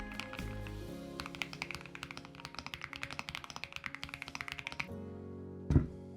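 Typing on a heavy aluminium KiiBoom Loop 65 mechanical keyboard held close to the microphone gives a dense run of crisp clacks for about four seconds, then it goes quiet before a single louder thunk.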